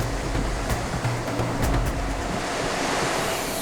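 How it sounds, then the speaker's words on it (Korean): Waves driven by Typhoon Bolaven surge over a seawall in Busan, a loud continuous roar of crashing surf mixed with gusting wind buffeting the microphone, with no voices. "파도가 해안 옹벽을 넘어 해안도로까지 밀려오면서"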